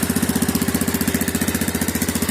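Yamaha Grizzly 660 ATV engine running rough after starting, with the choke wide open: a loud, close, rapid pulsing chug with a steady rhythmic throb throughout and no voices.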